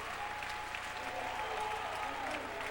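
Sustained, dense applause fills an outdoor stadium crowd at a PAC-10 collegiate track and field championship meet, steady and even from start to finish with no voices standing out.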